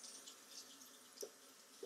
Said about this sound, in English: I'm going to let my water warm up a little bit.